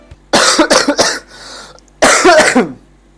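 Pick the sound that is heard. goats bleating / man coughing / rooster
man coughing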